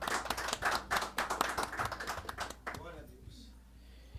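A church congregation claps in a brisk burst of rhythmic hand claps, close and fairly loud, that breaks off after a few seconds into quiet room tone, with voices mixed in.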